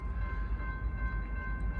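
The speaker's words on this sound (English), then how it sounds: "Southbound Norfolk Southern on the CSX track." A southbound Norfolk Southern freight train on CSX track rolls past on the farthest track, a steady, fairly close low rumble with faint sustained tones riding above it and no talk.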